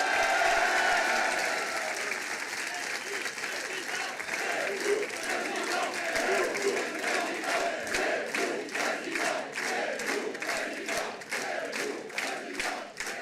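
A large crowd of around a thousand supporters applauds and cheers at an Éric Zemmour political rally in rural Chaumont-sur-Tharonne, Sologne, with loud sustained clapping that turns into rhythmic chant-like bursts of claps and shouts.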